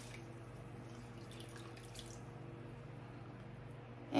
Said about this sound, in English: let me just rinse my washcloth.